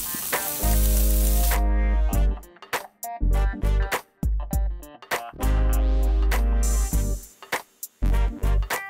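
Beef flank (vacío) sizzles loud and close on an Argentine asado grill, a steady frying crackle broken by sharp pops and spits, with no voices over it.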